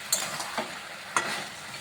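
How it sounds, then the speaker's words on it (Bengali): Potato and ridge gourd being sautéed with tomato and lentil dumplings in a pan, a steady soft sizzle with a few sharp stirring scrapes at intervals, close and moderately quiet. "ভালোভাবে একটু কষিয়ে নিচ্ছি।"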